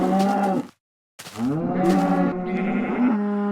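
Cows low in Minecraft, two loud, close moos separated by a short silence, the second long and drawn out with a shifting pitch.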